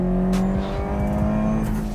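A tuned car with a standard STI shifter, built by West Coast Cars, drives on the street with a steady engine drone and a low, even exhaust hum, close and continuous throughout.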